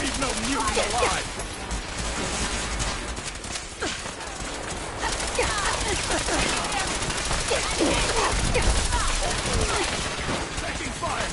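Gunfire in a Fallout 4 battle with mutants: dense bursts of automatic shots and scattered single cracks run throughout at close range, with game voices and background noise mixed in.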